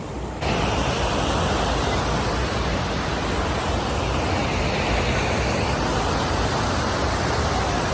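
Water pours and rushes at Usgaon dam, a loud, broad, unbroken roar that fills the scene from start to finish after a brief quieter moment.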